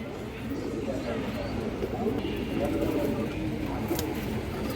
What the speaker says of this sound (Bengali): বড় মাথায় একটা সবুজ গলার নর কবুতর খুবই ভালো একটা কবুতর এবং খুবই চঞ্চল কবুতর